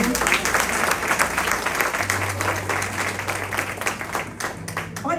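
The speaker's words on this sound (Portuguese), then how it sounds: "Aplauda o Senhor" A church congregation applauds during a women's worship gathering, with dense, continuous clapping at moderate volume and a low steady hum beneath, with no clear talk over it.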